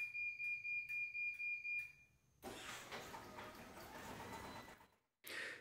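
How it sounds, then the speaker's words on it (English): A residential garage door opener starts after a voice command: a repeated beeping warning tone sounds first, then the motor and door run with a steady broad rumble for a few seconds before stopping, followed by a brief further burst. "Alexa, open garage door."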